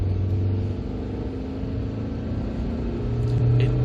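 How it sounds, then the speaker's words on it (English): A 1995 Hyundai Lantra 1.5 GLS engine strains under hard acceleration, a loud, rough droning rumble that holds steady and rises toward the end, heard from inside the car. "It doesn't really like hard acceleration. It doesn't like it at all. It just sort of makes quite a lot of noise"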